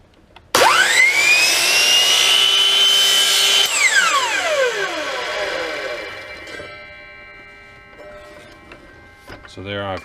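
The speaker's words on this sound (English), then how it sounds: "I can just go over to the chop saw" A chop saw spins up loudly and cuts off a wooden tenon on a dice box part, the high motor whine holding steady before winding down over several seconds, with a brief clatter at the end.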